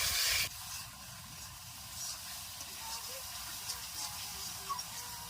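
Spices and potatoes for a catfish curry sizzle steadily in a hot pan, a close continuous hiss with small pops, following a brief louder scrape at the start.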